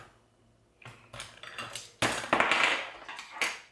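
Metal spoons and dishes clink and clatter as a dishwasher is unloaded, a quick run of close, bright, uneven knocks over a few seconds.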